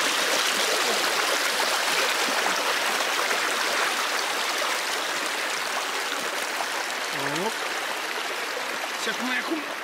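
A mountain river near Piatra Mare peak rushes in a loud, steady broadband roar that runs unbroken throughout, with faint bird chirps briefly audible over the flowing water.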